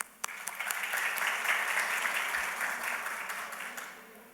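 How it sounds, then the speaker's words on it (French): Audience applause at the opening session of a medical congress, a dense crowd clapping that swells quickly after a sharp first clap, holds steady, then tapers off near the end. "sous vos applaudissements"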